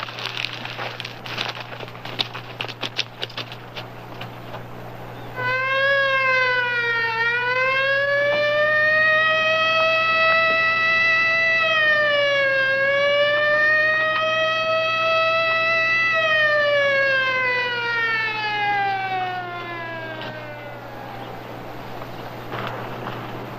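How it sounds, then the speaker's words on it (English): A loud wailing siren starts after a few seconds, rising and falling in long sweeping tones over a steady low engine hum, continuing to the end. "He wants us to hit the siren."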